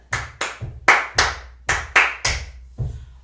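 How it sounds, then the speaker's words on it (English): Hands clap out a rhythm during a piano-lesson exercise: eight sharp, close claps in an uneven pattern over about three seconds, steady and fairly loud with no voices. "I'm going to clap the rhythm and I want you to clap it back to me."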